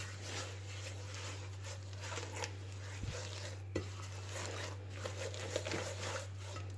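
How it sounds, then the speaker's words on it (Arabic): Softened butter being stirred together with other ingredients by hand in a bowl, quiet soft scraping and mixing with a few light clinks, over a steady low background hum. "كنبداو كنخلطو هاد المكونات مع بعضياتهم"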